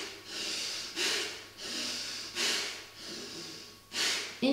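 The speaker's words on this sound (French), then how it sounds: "soit la respiration du feu" Rapid forceful breath of fire yoga breathing, with rhythmic nasal exhalations and inhalations pulsing in four or five strong, even cycles, close and alone with no talk.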